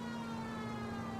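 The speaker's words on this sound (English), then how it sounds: "ninguém respeita a sirene aqui" Police siren in the L.A. Noire video game, a steady wailing tone holding for a little over a second with no voices over it.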